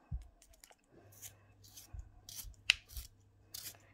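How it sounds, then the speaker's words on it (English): A pastel pencil is turned in a basic metal hand sharpener, giving short, quiet scraping and shaving scratches in uneven bursts with small clicks, close up. "Now, this is just your bog standard metal sharpener, the ones we had in school."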